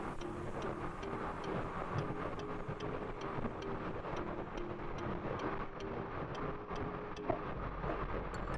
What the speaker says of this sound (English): this may be real windy and hard to hear me